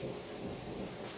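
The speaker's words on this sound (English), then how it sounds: "Oh, and thunder." Thunder rumbles low and broad through a steady rainstorm, with the hiss of rain falling throughout and no one speaking.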